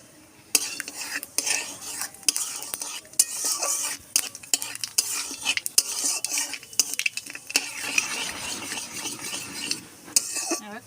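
Black cumin seeds crackle and sizzle in hot oil for tempering, close and lively. Constant stirring clatter from a utensil against the pan runs through it, and no one speaks.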